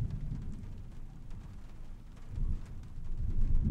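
Steady rain pours with a deep, rolling rumble of thunder outside a room in the adventure game Trüberbrook, the low storm noise swelling louder toward the end with no talking.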